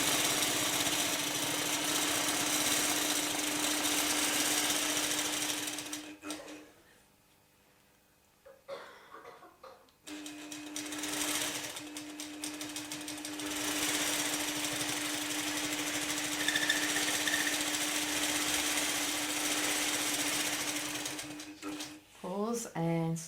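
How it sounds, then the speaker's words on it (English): Domestic sewing machine stitching a swag border on a quilt, a steady fast mechanical chatter running for long stretches, pausing briefly in the middle before resuming, close and fairly loud. "We use the same template to stitch back the other way."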